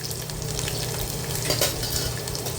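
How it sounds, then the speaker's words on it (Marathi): Crushed garlic and curry leaves frying in hot oil, a loud steady crackling sizzle heard close, with a brief stir scrape midway. "लसूण टाकून घेते लसूण परतून घेऊया व्यवस्थित"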